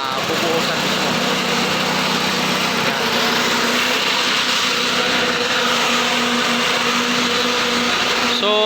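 A concrete vibrator runs during a concrete pour for a retaining wall, making a loud, steady, close motor whine and rattle that continues throughout.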